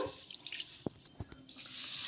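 Water is poured over rice in a vessel to soak it, giving a few quiet splashes and drips in an otherwise hushed room.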